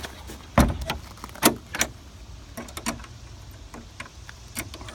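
Clicks, clunks and jangling keys as a vehicle's fuel tank is locked up after refueling: several sharp mechanical knocks and latch sounds at irregular intervals, close by, with no talking.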